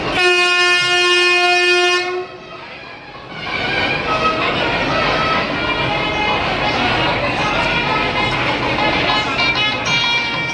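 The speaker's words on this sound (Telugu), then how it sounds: "మన బండి కదిలిపోయింది" A passenger train pulls out of Guntakal Junction station on the new Guntakal–Markapur service. A long, loud horn comes first, followed by a steady rumble and clatter of the moving carriages, with people talking nearby.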